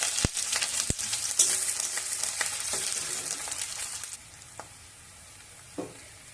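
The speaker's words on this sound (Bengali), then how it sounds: "তেল গরম হলে প্রথমে পেঁয়াজটা ভেজে নেব" Onions sizzle loudly in hot oil, with a dense crackling hiss and a few sharp clinks of a spatula. The frying then quietens to a softer background sizzle with occasional taps.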